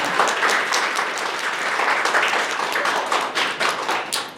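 An audience at a press conference for a Seoul Design Foundation exhibition gives a lively round of clapping, with close, crisp individual claps standing out from the dense applause, which tapers off at the end.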